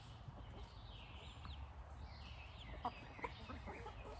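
Faint chickens cluck softly at a distance, with low rumbling background noise and occasional sharper clucks.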